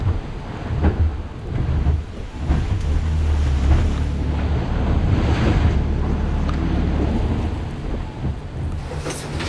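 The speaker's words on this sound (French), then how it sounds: "La météo se durcit, la mer se forme." Rough sea surges and crashes steadily while strong wind buffets the microphone aboard a sailboat heading upwind, a continuous loud roar with no voices.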